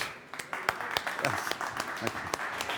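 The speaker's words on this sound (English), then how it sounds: "Please give a huge round of applause to our next moderator from Into the Block, Leonard Board" Scattered, distinct hand claps from a small conference audience greeting the next moderator, fairly close and uneven, a dozen or so sharp claps rather than a full ovation.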